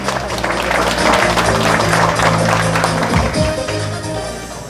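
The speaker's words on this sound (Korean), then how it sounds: "여러분 박수로 맞이해 주시기 바랍니다" Audience applause welcoming Changwon's mayor at the opening ceremony of an arts week in an outdoor plaza, a steady, dense wash of clapping from a crowd that carries on throughout, with a low hum underneath.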